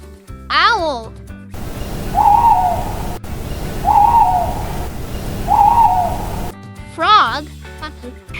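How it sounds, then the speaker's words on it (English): An owl hoots three times at steady intervals against a soft, airy background hiss, with a singing voice heard just before and after the calls. "Owl."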